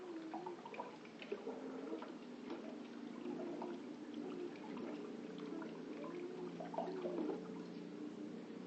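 Water runs steadily from a kitchen tap near a glass-drying rack, a continuous soft splashing stream at low level throughout with faint household sounds behind it, no talking.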